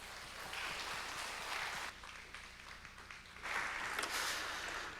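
A church congregation at a Sunday service applauds to welcome a guest pastor to the pulpit: a sustained wash of many hands clapping that dips briefly midway, then swells again louder, with no speech over it.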